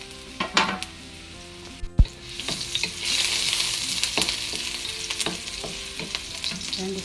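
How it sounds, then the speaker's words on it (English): Garlic frying in hot cooking oil in an otherwise empty pan, ahead of fish with vegetables and rice: a loud, close, steady sizzle swells after a clatter, with scattered clinks and stirring scrapes throughout and no voices. "Then we're going to add the"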